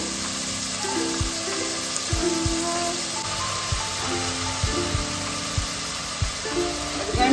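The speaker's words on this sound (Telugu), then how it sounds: "ఫ్రై అయిందండి పెసలు ఫ్రై అయినాయి" Moong beans frying in a pan for moong pulao, heard as a steady sizzle with a low mechanical hum and regular soft ticks running throughout, with no voices.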